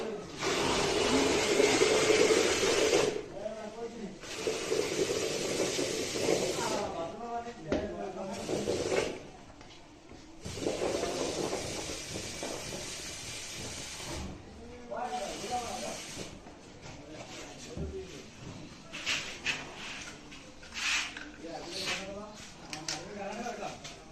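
An espresso-style coffee machine steam wand pressurising milk tea, loud hissing bursts that start and stop in several long blasts, with a voice talking in between and over the gaps.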